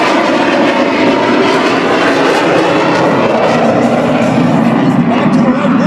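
A Blue Angels jet rolls down the runway for takeoff, a loud, continuous broadband roar of engine thrust that fills the whole stretch at close range.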